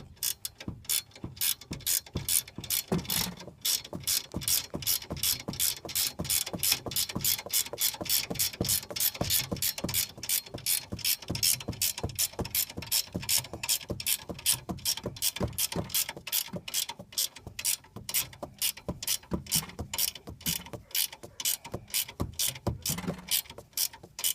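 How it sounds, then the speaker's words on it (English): A hand ratchet tightens the bolts on leaf spring helpers. It gives a fast, continuous run of close, metallic clicks and keeps going without a break for the whole stretch. "As you tighten this up, you'll see this here gap in between here close up."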